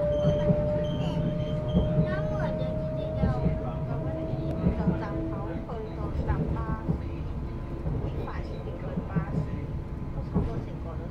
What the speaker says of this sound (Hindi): ये देख लो यहाँ पे ट्रेन अभी जस्ट निकली है